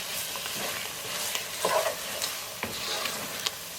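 Mutton ghee roast being stirred in a pan with freshly added coriander leaves, heat just switched off, a steady soft sizzle under scraping spoon strokes and a few clinks, close and alone.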